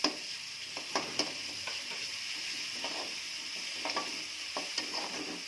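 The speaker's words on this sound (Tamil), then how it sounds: "வெங்காயம் கொஞ்சம் நல்லா வதங்கட்டும்." Onions sauté in a pan for an evening snack, sizzling steadily with repeated scrapes and taps of a stirring spoon against the pan, no talking.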